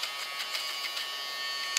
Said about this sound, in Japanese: ブラウンの電気シェーバーを紹介いたします。